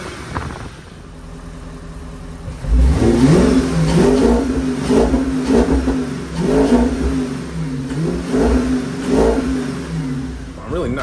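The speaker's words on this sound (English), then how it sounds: "I'll go ahead and give you some revs and show you how that's sounding." An Audi S5 fitted with an APR cold air intake revs up from idle in a series of loud, close throttle blips that rise and fall several times, with a steady engine hum between each rev.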